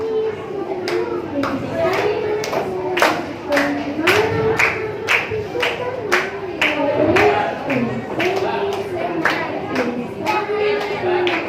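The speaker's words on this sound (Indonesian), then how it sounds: "Teman-teman di belakang tepuk tangan ikuti irama lagunya ya" Group of children clapping in rhythm along to a sung song at a first birthday party, steady claps at an even beat under a melodic voice, continuing throughout.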